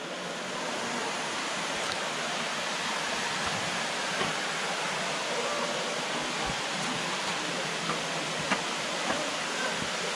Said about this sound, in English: Jerry, let's go look at the waterfall real quick.